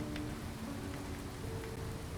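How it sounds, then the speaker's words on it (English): Rain falls steadily inside the Skyrim video game, a soft continuous patter with scattered drops and a low tonal hum running beneath it. "I did like the sound of the rain as I was reading"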